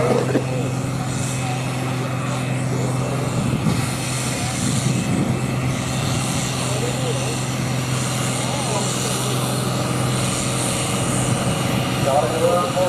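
A tractor engine roars steadily during a tractor pull at a rally, a loud sustained drone with shifting tones, while a person talks and calls encouragement over it.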